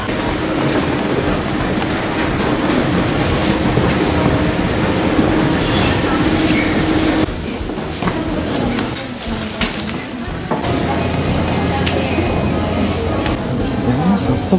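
A loud, steady rumble of a Japanese commuter train running on rails, heard from inside, with rattling and clatter throughout and a brief change in tone partway, some voices faintly underneath.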